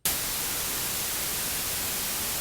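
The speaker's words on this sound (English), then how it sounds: "Yeah, white noise." White noise oscillator on a Tone2 Electra 3 synthesizer hisses as a loud, steady broadband static that starts abruptly and holds unchanged throughout.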